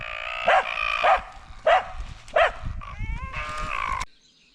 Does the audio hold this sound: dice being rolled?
no